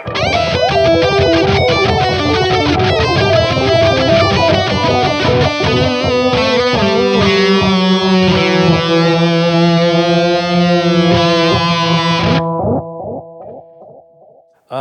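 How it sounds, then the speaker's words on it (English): Electric guitar notes play through a gritty, lo-fi low-res delay effect on a Valeton GP200 or Line 6 Pod Go, with repeating echoes stacking into a dense wash before cutting off abruptly. "Over in the delay, we have another low res delay."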